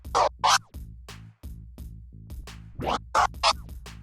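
Crossfader two-click flare scratches on a DDJ S controller, a run of chopped, stuttering record-scratch bursts in quick rhythmic forward and back strokes, close and clear with no talk.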